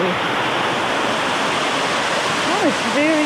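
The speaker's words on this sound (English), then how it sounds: "The waterfall view." Ross Creek waterfall pours in a steady, dense rush of falling water, loud and close throughout, with a few brief high chirps or tones rising above it near the end.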